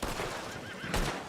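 Horses whinny in Red Dead Redemption 2, a short neigh followed by a louder burst near the end, faint and brief with no talk.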